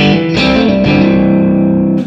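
Electric guitar with heavy distortion and effects plays a short lick in A shape over minor chords, loud and sustained with a few picked note attacks and no voice.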